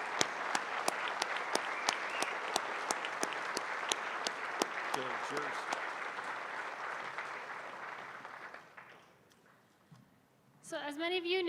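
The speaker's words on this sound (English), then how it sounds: "Would you please give them a round of applause?" A large audience at a university centennial closing ceremony gives retirees a sustained round of applause. The dense clapping is loud and steady for about eight seconds, then fades away, and a voice speaks briefly as it ends.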